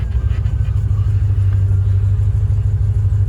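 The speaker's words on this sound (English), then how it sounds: "Check it out. Starts right up now." A Chevrolet Corvette's engine runs at a steady, loud idle, a deep continuous rumble with no revving. It stays close and even throughout, with nobody speaking over it.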